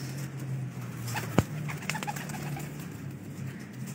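A female pigeon cooing on a rooftop, a low soft coo early on under faint ambient noise, with a sharp brief tap and a few small rustles, no talk.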